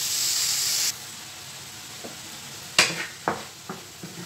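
Smoked lardons frying in a pan, a steady hiss that drops away, then several sharp crackles and spits at close range.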